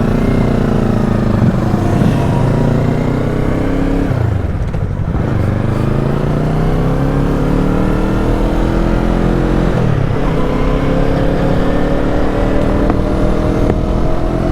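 A Yamaha MT-03 naked motorcycle is ridden, with a loud, steady exhaust note and wind roar close by, dipping briefly twice as the engine revs drop and climb again.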